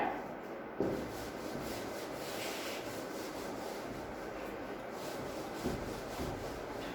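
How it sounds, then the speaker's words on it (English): Writing is rubbed off a board during a maths lesson, giving a soft, continuous scrubbing rasp close by, with a couple of light knocks and no talking. "I'm just rubbing, okay, the thing which I have written here."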